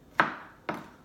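A knife chops leftover vegetables into small pieces on a board, two distinct sharp knocks about half a second apart, close and clear with no talking.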